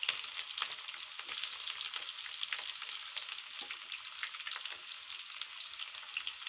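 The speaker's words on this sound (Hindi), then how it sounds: "प्याज को पकाते हैं थोड़ी देर।" Chopped garlic and onions fry in a pan of oil with a steady, close hiss and sizzle, dotted with small crackles and the occasional stir, and no talking.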